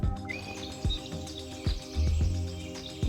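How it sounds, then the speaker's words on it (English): Birds singing and calling in a forest, with several chirps and short whistled notes over a steady background chorus, moderately faint and heard alone. "Listening to the birds"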